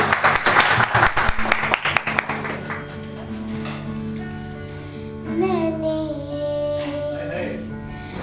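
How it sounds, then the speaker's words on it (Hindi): Brief audience applause at an open mic, loud claps for about two seconds that stop abruptly, followed by quieter sound with a sung tone. "जोरदार तालियां पहले तो एक बार इसके लिए"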